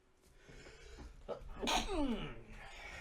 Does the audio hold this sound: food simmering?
no